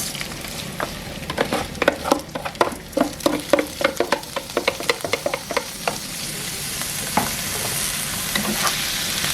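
Rice is stir-fried in a pan with garlic and coriander root, a spatula scraping and tossing in quick rhythmic strokes over a continuous sizzle, close and fairly loud, easing to a steady frying hiss near the end.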